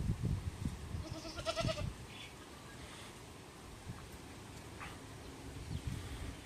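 A lame goat on a farm bleats a few times, wavering cries close by in the first couple of seconds, then fainter bleats over breezy outdoor noise.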